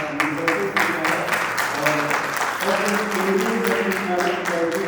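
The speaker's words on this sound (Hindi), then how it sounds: "सर का जोरदार तालियों से हार्दिक स्वागत" An audience at a national theatre festival applauds to welcome a guest, a steady wash of clapping with a voice speaking over it.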